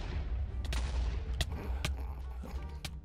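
Fireballs launched in a Minecraft FNAF roleplay, a handful of sharp bursts over a low rumbling background, the shots coming in quick irregular succession.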